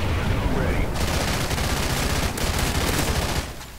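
Rapid SMG fire from Call of Duty Ghosts on PC, dense and sustained bursts running nearly continuously through the clip, loud and close.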